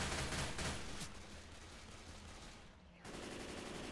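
Automatic gunfire in the video game Left 4 Dead on a custom night map, a continuous rattling stream of shots at low volume that briefly pauses before resuming.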